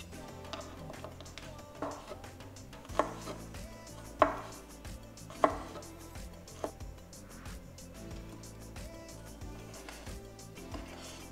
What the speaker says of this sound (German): Die andere Knoblauchzehe werde ich in kleine Stücke schneiden und die Chilischote werde ich in Kernen und auch fein schneiden